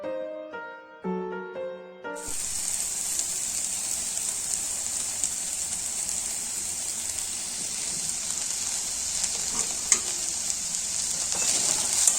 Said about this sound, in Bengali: আর হচ্ছে কি সমস্ত সবজি দিয়ে একটা ভাজা বসিয়েছি।